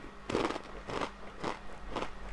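Hula Hoops potato ring snacks being bitten and chewed close up, four distinct loud crunching bursts in a steady rhythm with no talking.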